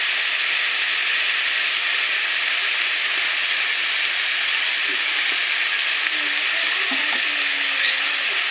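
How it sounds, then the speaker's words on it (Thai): Eel red curry being stir-fried dry in a pan with mushrooms, a steady close sizzle running throughout, with faint scraping of a utensil stirring late on. "ผัดแบบแห้งๆเลยเนาะ"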